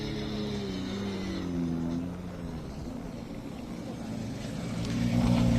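A rally car at Rally Hungary 2021 approaching the stop line at the end of a special stage, its engine droning with shifting pitch and rising toward the end, under a steady outdoor rumble.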